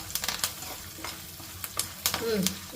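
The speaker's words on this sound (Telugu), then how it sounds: "తాలింపు వేయాలంటే అలా కలుపుకోవడమే" Tempering for an Ugadi festival dish sizzles in a pan as a spoon stirs it, producing close, bright frying hiss broken by irregular scraping strokes.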